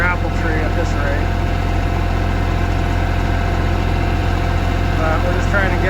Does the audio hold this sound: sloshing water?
no